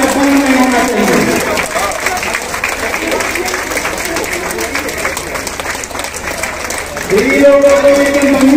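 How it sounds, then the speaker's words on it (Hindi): An audience at a job and guidance fair in Bihar applauds continuously. The steady clapping runs throughout, loud and sustained, while a voice speaks over it at the start and end. "दीदी तालियों की गड़गड़ाहट रुकनी नहीं चाहिए"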